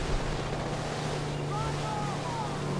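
A small boat's motor hums steadily across open water in Far Cry 4, with wind and wave wash around it and a voice speaking over it.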